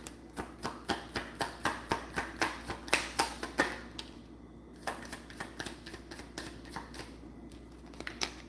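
A deck of cards is shuffled, producing a quick, even run of crisp papery clicks, a short break, then more rapid flicking, close by and moderately quiet with no talking.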